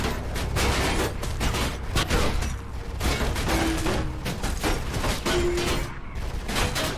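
Sustained enemy gunfire in Mirror's Edge, a long dense barrage of rapid shots with brief gaps, loud and continuous throughout, with a few faint mechanical tones mixed in.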